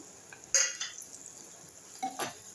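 Onion is stirred with whole spices and crushed garlic in a pan, making a couple of soft scraping clinks of a utensil against metal over a faint, steady background hiss.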